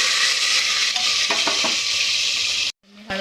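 Ginger, garlic and onion sizzle steadily in hot oil inside a pressure cooker, with a few soft utensil clinks partway through, before the sound drops away abruptly near the end.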